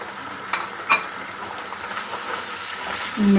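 Masala-stuffed green chillies fry in oil in a karahi, a steady sizzle with a few sharp utensil clinks and a brief low rumble at the end.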